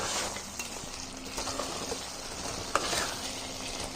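Chicken curry fries and is stirred in a pan over high flame, a constant loud sizzle broken by scraping stirs and one sharp clink of a utensil against the pan.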